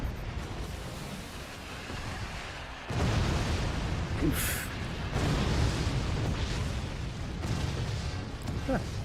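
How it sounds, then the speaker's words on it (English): Explosions in the video game Forts come as a dense run of loud, rumbling booms and bursts that surge together and stay continuous, with a voice speaking briefly over them. "Explosions. So many explosions."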